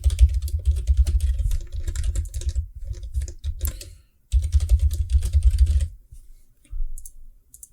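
Fingers type a password on a computer keyboard in quick, uneven bursts of close clicking keystrokes, with a short pause midway and a few scattered taps at the end.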